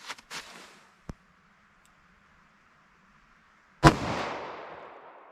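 A .38 Special 110 grain round fired from a 2-inch snub nose revolver: one loud, sharp close shot with a short decaying echo, preceded by a few faint clicks and a small tick.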